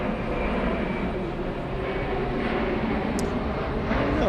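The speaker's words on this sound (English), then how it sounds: "We have a big one racing down the runway. Iceland Air taking off." Loud, steady roar of an Icelandair airliner taking off down the runway at JFK airport, a dense rumbling engine drone heard continuously up close.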